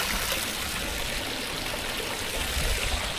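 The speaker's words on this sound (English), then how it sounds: "Beautiful water fixture." Water flowing steadily in a decorative courtyard water fixture at a palace hotel, a continuous close splashing and trickling rush with no talk over it.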